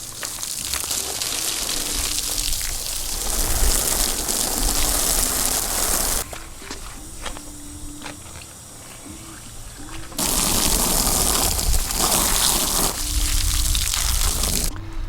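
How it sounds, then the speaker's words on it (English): Water pours and splashes heavily over a cycling handlebar bag stuffed with paper towels, a loud rushing gush that pauses briefly midway and then resumes just as strong. "let's soak it with some water"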